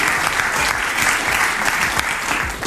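A studio audience bursts into dense, loud applause, a steady close clatter of many hands clapping that holds without letup.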